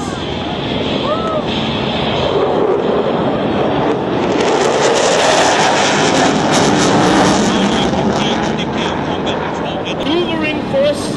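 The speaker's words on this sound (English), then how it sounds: "from your right are two F-15s" Two F-15 fighter jets passing at an air show at Paya Lebar Air Base in Singapore, a loud, broad engine roar that rises and holds, with an announcer talking over it.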